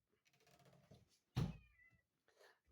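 An old female cat named Chi meows indoors: a drawn-out nasal meow, then a sharp loud yowl, and a softer short meow trailing after, close and alone.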